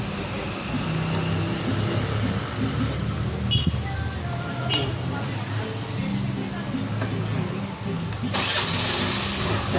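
A Suzuki Burgman scooter engine with an idle fault runs close by at a steady rumble, while someone talks over it and a brief hiss comes near the end.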